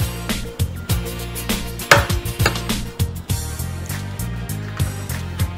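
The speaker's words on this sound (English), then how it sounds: "So for the next step is cracking the eggs." Eggs cracked against a hard edge for a Vietnamese steamed egg meatloaf, with ground pork nearby: sharp, close knocks and shell snaps scattered over about six seconds, some clustered, against a faint kitchen background and musical tones.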